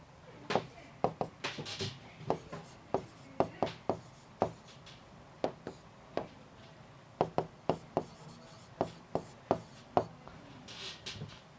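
Marker or chalk writing on a board during a physics class, a string of sharp taps and short strokes in an irregular rhythm, fairly close with faint background hum and no speech.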